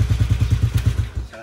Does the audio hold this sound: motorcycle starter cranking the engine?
yes